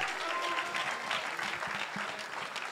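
Audience applause honoring a prize winner during a live radio rebroadcast event, steady broadband clapping throughout at moderate level with no clear gaps.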